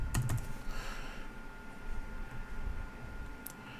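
Fingers typing on a computer keyboard, a short burst of quick clicky keystrokes at the start, then scattered lighter taps over a quiet room background with no one speaking.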